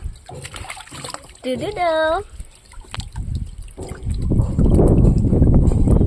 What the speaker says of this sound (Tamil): ரோஷன் சோப் போட்டு குளிப்போம்